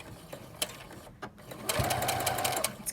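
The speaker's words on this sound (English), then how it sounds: "this is like a sewing machine's version of tying a knot" A sewing machine stitches fabric for an N95-shaped surgical mask, a few quick taps and a pause, then a steady, close, buzzing run of stitching.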